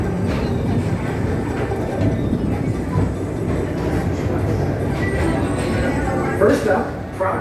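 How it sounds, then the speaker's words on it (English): The Disney PeopleMover ride train rolls steadily along its track in a continuous, close rumble with light rhythmic clatter, while a recorded narrator's voice speaks over it. "your express train keeps on rolling through the future"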